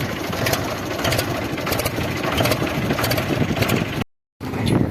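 A loud tractor engine drones steadily with a rapid mechanical chatter, cutting out briefly near the end before resuming.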